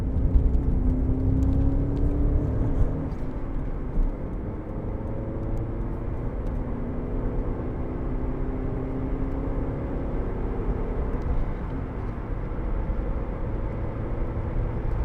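A 2003 Alfa Romeo GTV 2.0 Twin Spark 16v engine hums from inside the cabin as it accelerates, its tone rising and shifting steadily over about fifteen seconds at moderate, even loudness.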